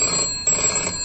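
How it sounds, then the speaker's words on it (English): Telephone bell ringing in an audio comedy, two short bright rings in quick succession, close and clear, with no one talking. "I was just about to ring you, Mr. Dibble."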